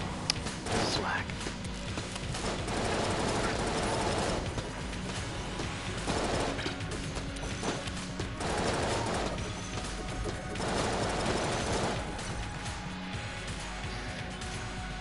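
Cannon trains firing in the Enter the Gungeon video game: a dense, continuous barrage of booming gunfire swells in repeated waves over about fifteen seconds, loud and layered with game music and effects.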